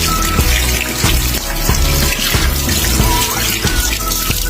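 Gutted fish is rinsed under a strongly running faucet, water splashing and gurgling loudly and continuously into the sink with irregular sloshing bursts as the fish is handled, with no talking.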